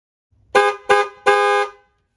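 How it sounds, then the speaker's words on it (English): Horn on a 1994–2004 SN95 Ford Mustang after repair, honking three times nearby, two short toots followed by a longer blast, clear against silence. "now after getting them both connected, it sounds like a normal horn."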